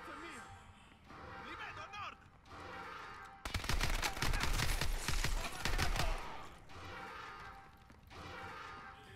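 Heavy automatic gunfire in Call of Duty Advanced Warfare erupts in a loud, dense burst lasting a few seconds, with quieter in-game voices and combat noise before and after it.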